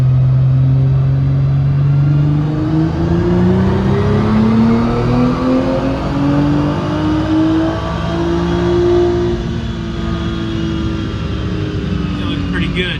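A Nissan GT-R R35 engine on flex fuel tuning accelerates hard through the gears toward fourth, a loud continuous rising roar with the pitch climbing and dropping at each shift, close up and sustained throughout.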